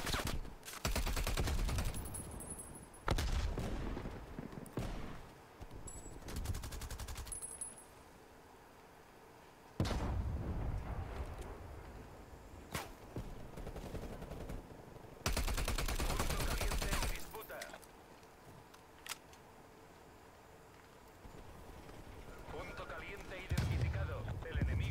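Bursts of automatic and single gunfire in Call of Duty Black Ops Cold War multiplayer, loud and close, broken by short pauses, with a player talking between shots.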